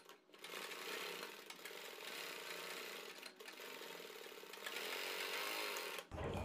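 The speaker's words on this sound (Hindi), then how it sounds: "अंदर की तरफ से गोलाई के बराबर बराबर सिलाई लगाएंगे।" A sewing machine stitches fabric along a curved neckline pattern, humming in a continuous quiet motorized whir that runs almost without pause and stops abruptly near the end, with no talking.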